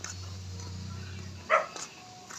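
Dogs bark from nearby houses along a dark residential street, one short burst standing out over low steady background rumble, with a faint second yelp just after.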